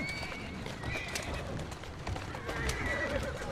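A horse in the video game Assassin's Creed Syndicate whinnies over steady hoof clatter, with faint game ambience around it.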